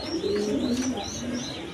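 Large pigeons coo in soft, throaty rolling calls close by, the cooing continuing over a steady murmur of background noise.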